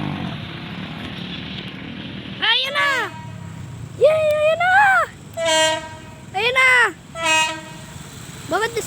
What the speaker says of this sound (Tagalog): Ayun na yung tren.